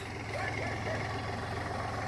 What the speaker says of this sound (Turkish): Eşim ve çocuklar traktöre bindi. Babam sürüyor traktörü.